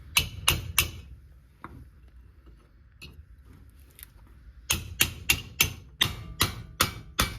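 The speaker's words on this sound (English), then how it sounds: "And of course I did have to take my hammer and pound it on there." Sharp metallic hammer strikes pound a 14 mm socket onto a bolt during a 2004-2009 Toyota Prius front wheel bearing replacement, three at the start, a few scattered taps, then a steady run of about eight blows.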